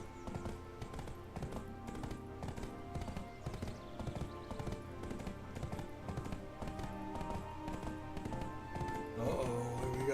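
Clip-clop of horse hooves in the Black Desert game, a steady repeating trot that runs continuously at moderate loudness under game music and ambience, with a brief swell of other game sound near the end.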